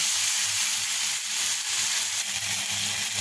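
Shrimp and sweet pumpkin curry sizzles steadily on a low stove flame as the sauce reduces, a continuous, close, crackling fry with no talk.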